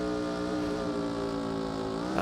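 Engine drone from a car in BeamNG after its motor has blown: a steady, buzzing, harmonic-rich hum held at an even level throughout, with a slight rise in pitch at the very end.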